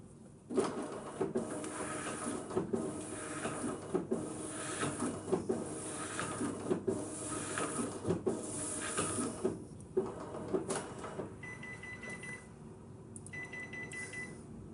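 A Brother ADS-2400N document scanner runs through a scan, a continuous mechanical whir with repeated rhythmic feed pulses and clicks for about ten seconds, then quieter motor tones near the end, close by with no speech.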